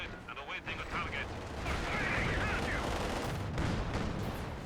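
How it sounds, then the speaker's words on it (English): Soviet artillery in the Company of Heroes 2 video game booms continuously in a dense rumbling barrage, with distant blasts and mechanical clatter layered through the mix and no talk. "Soviet artillery is reloaded and awaiting a target."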